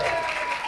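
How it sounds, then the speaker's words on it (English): A high school audience at a stage hypnosis show applauds the volunteers, a short burst of dense clapping with a voice over it. "give them a nice big round of applause"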